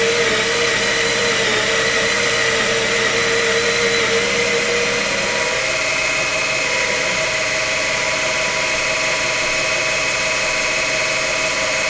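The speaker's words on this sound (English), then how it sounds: "Put the coffee in the grinder." An electric coffee grinder grinds coffee beans for espresso in a steady, loud, continuous motor whir that runs without a break for about twelve seconds, with no talking.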